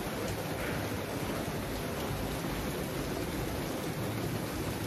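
Steady rain falling outdoors, a dense broadband hiss that holds evenly throughout with no talk over it.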